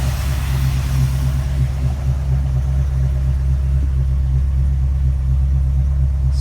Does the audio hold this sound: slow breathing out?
no